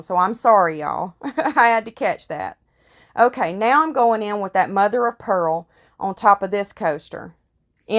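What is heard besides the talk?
No everyday noise stands out behind the speech.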